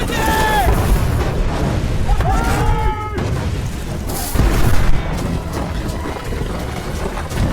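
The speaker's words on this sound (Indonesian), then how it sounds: "Pasukan muslim mulai menunjukkan dan menembakkan meriamnya." Cannon fire during the 1453 siege of Constantinople, heard as loud booming blasts amid a dense, continuous battle din, with a prominent deep impact near the middle.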